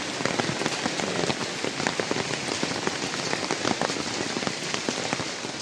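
Heavy rain pours down during the Ganpati festival, a dense, even patter of drops drumming on nearby surfaces, steady and close with no voices.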